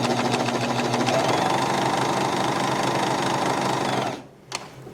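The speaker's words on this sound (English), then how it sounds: "lower the presser foot and stitch." Bernette B42 coverstitch machine stitching a hem on fabric, a loud, steady motor whir with rapid needle chatter running for about four seconds before stopping, followed by a single faint click.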